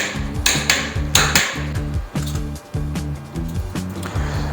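A ratchet clicks in quick repeated bursts as the front wheel axle bolt of a Thumpstar TSB250 dirt bike is tightened to torque, rhythmic metallic ticking close by with short pauses between strokes.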